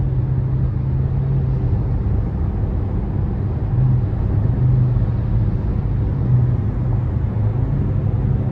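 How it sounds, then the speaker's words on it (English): A 2019 Toyota Corolla LE with a CVT and about 91,000 miles, heard from inside the cabin as it accelerates: a steady low engine drone and road rumble, fairly loud and even, with no voices. "Now with the CVT, you kind of want to find that sweet spot again to accelerate"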